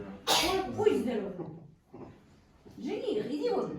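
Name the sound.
sneeze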